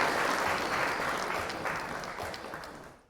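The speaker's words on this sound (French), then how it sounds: "Main d'applaudissement, les gars." An audience breaks into applause, a dense, close wash of many hands clapping together that holds steady and then tapers off at the end.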